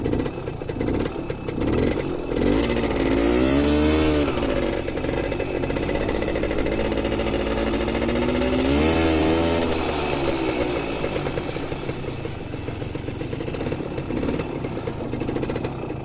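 A 1990 Simson S51 moped's small two-stroke engine drones while riding, buzzing steadily with two clear rises and falls in revs as it shifts, close and continuous with wind noise and no speech.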